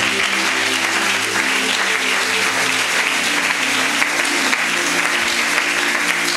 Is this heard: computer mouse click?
no